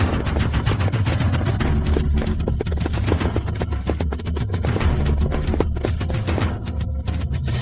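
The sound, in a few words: gunfire during assault team attack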